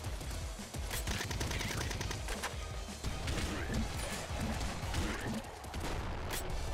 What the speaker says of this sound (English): I will definitely grenade you